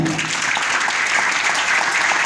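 Dense, steady applause from a crowd, clapping continuously at full volume with no voices on top.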